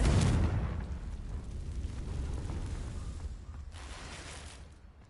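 Explosion from the Confringo blasting spell, a loud booming burst at the start that decays into a long rumbling roar, with a softer second flare near the end before fading.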